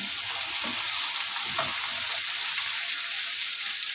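Vegetables and a chili fry in a pan after tomatoes have softened, giving a constant bright sizzle, close and steady, with a few soft stirring scrapes underneath.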